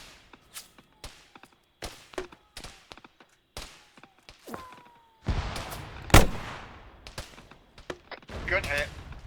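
In a video game, a gunner fires on a technical vehicle: sharp single shots crack at intervals, then a louder, denser burst of gunfire erupts, with voices around it.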